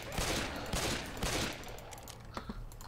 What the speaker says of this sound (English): Pardon me, sir, I need you to stop shooting me.